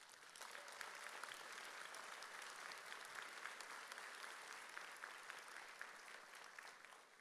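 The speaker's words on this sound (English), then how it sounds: "Let's give them a round of applause as well." Applause fills a college commencement ceremony as faculty stand to be recognized, a steady, distant-sounding wash of clapping from the audience lasting several seconds.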